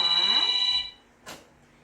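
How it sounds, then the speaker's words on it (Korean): A telephone rings with a bright electronic ringtone, one sustained tonal burst lasting most of a second, then a short noisy rustle follows in an otherwise quiet room. "전화가 오네 누굴까?"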